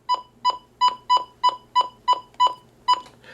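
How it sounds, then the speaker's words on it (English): Eight evenly spaced electronic button beeps from a Midland WR-100 weather radio sound in steady rhythm, each with a soft speaker click at its onset, followed by a fainter rustle at the end. "if we hear the version 5's button beeps, the speaker kind of clicks, like it fades in and out"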